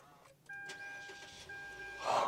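A Mitsubishi Xforce starts up: a soft click, then a steady electronic chime tone holds under a low idle murmur, ending in a brief louder whoosh as the engine catches, heard from inside the cabin.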